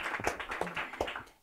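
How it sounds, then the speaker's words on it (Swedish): A brief patter of clapping from a seminar audience on sustainable architecture, a few distinct hand claps close together at moderate volume, fading out within a second or so. "en applåd såklart."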